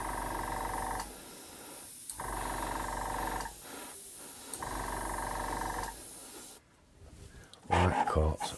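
AK 3rd Gen Rust Primer, a deep red, being airbrushed onto an HO/OO scale model, heard as a steady close hiss in three long bursts separated by short pauses, followed by some handling clatter.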